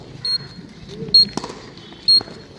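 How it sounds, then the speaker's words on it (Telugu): An Arduino obstacle-sensor spectacle gadget for blind users gives three short, high electronic beeps, evenly spaced about a second apart, with faint handling noise and a brief clatter between them. "1 meter లోపల ఉంటే సౌండ్ ఇలా ఫాస్ట్గా బీప్ వినపడుతుంది."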